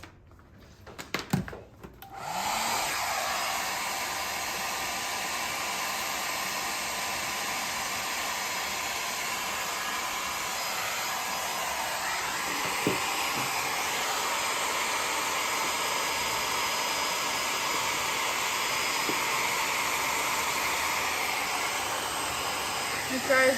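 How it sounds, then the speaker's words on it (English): A hair dryer blows on air dry clay, switching on after a brief clatter and then running as a steady, even whooshing hiss for about twenty seconds, with no speech. "And then I will just blow dry it quickly."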